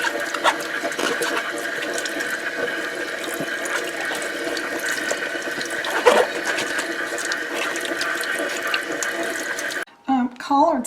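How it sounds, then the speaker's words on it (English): Running water from a kitchen tap pours steadily into a cleaned sink as collard greens are washed front and back, a loud continuous splashing that stops abruptly near the end, followed by a few light handling sounds. "I like to wash my collard greens on the front and the back before I cut them up."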